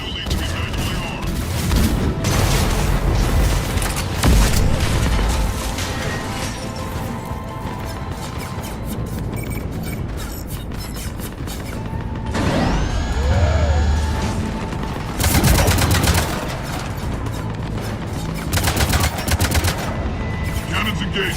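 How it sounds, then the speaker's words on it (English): Mass Effect 3 combat: loud, dense barrages of heavy weapon fire, cannon blasts and crashing impacts rattle almost continuously, with sweeping electronic effects and game dialogue mixed in. "Cannons engaged."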